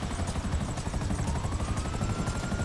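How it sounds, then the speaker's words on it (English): A helicopter in the video game GTA Online flies with a steady, close rotor thump and engine whine that hold constant throughout, with no talk over it. "Oops, and I'm going to crash the helicopter in the bush."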